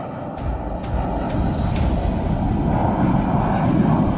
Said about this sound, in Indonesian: Lalu pesawat mengudara tinggi